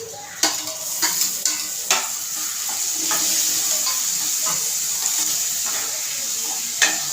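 Tomatoes tossed into onions frying in a pan, with a steady close sizzle and a few sharp scrapes and clinks of a spoon stirring against the metal.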